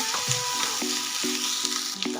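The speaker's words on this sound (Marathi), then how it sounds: "अधूनमधून आपल्याला कांद्याला हलवत राहायचं" Chopped onions sauté in hot oil in a pan for a paneer tikka masala and are stirred now and then. A steady close sizzle runs throughout, broken by several short scraping and clinking strokes of a utensil against the pan.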